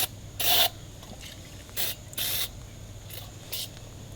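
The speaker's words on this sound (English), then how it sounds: "I'm going to spray it in all the areas that could potentially be sticking points" Short hissing bursts of lubricant spray aimed at a stuck wick and burner basket on an Aladdin Blueflame kerosene heater, five or six quick sprays of uneven length, close and fairly loud, separated by quiet pauses.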